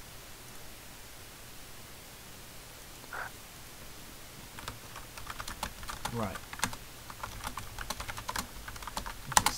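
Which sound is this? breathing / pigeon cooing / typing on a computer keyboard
typing on a computer keyboard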